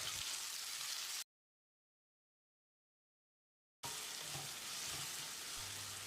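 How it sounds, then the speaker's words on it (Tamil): Tomatoes and onions with salt sauté in a pan for a Chettinad mushroom curry, giving a soft, steady sizzle and frying hiss that cuts to silence for a few seconds before resuming. "2 டீஸ்பூன் உப்பையும் சேர்த்து தக்காளியை நல்லா மசிகிற அளவுக்கு வதக்கிடலாம்"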